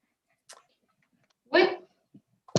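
A single dog barks once loudly and close by, with a few faint yips and small noises around it in an otherwise quiet indoor room.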